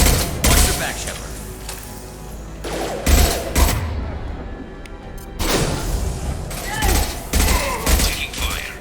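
Mass Effect 2 combat gunfire rattles in loud repeated bursts with heavy impacts, continuing steadily across the scene alongside spoken dialogue.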